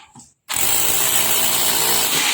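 A Mitsushi rotary demolition hammer drill starts up after a brief quiet moment and runs steadily, with a loud, dense, continuous mechanical hammering roar close by.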